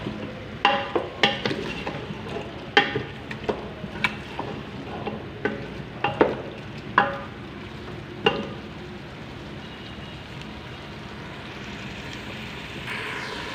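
Meat and potatoes being fried down for aloo gosht salan, a low frying hiss broken by a series of sharp spatula scrapes and clanks against the pot that thin out after about eight seconds.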